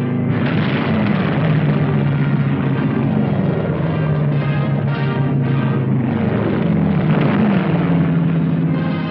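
Propeller aircraft drone in a 1945 wartime documentary about the Burma campaign, a loud continuous engine roar with a wavering pitch, unbroken for several seconds on an old film soundtrack.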